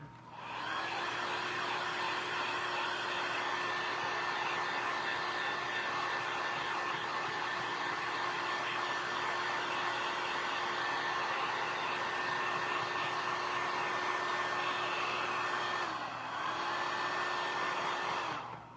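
A hair dryer blows continuously over a fresh coat of paint on a craft piece, a loud steady whirring hum with a constant tone, briefly dipping near the end before resuming.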